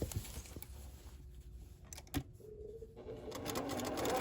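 Sewing machine stitching pillowcase fabric at a corner, faint quick mechanical whirring in short bursts separated by quiet pauses, then a longer run of stitching, nearby and quiet.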